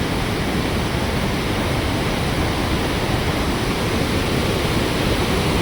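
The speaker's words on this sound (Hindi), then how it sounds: "पूरा पानी जाता हुआ नीचे की तरफ" A river rushes downstream at the Vishnuprayag confluence near Badrinath, with the fast-flowing Dhauliganga meeting it. A loud, steady, broadband roar of churning water continues without a break and with no voices.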